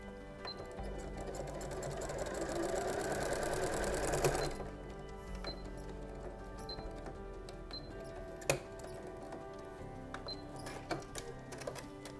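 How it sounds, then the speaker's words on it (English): Sewing machine stitching a fabric seam on a Christmas stocking, a fast steady mechanical whir with rhythmic ticking that stops after about four seconds, leaving faint clicks and a single sharp knock. "stitching at that first pin, and I'm going to go backwards and forwards just to make sure that those stitches are really nice and secure"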